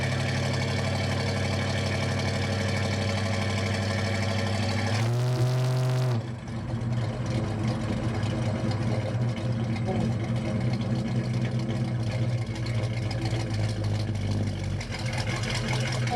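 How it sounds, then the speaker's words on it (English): A restored 1971 Dodge Dart with a 340 V8 and automatic transmission idles with a deep, steady rumble, rising in a short rev around the middle before settling back to a smooth idle. "Today we are in my restored 1971 Dodge Dart with a 340 and an automatic transmission."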